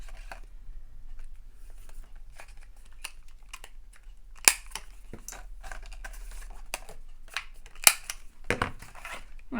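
A stack of papers is cut together for a junk journal: sparse, quiet snips and crunchy cuts, with a couple of sharper clicks, over a low background hum and no talking.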